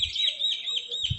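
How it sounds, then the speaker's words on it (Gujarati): Birds chirp in a groundnut field at midday, high thin tweets repeating in quick succession, fairly close and clear over a quiet outdoor background with a brief low thump at the end. "જુઓ અત્યારે બપોરે પણ પક્ષીઓ અહીંયા આવે છે"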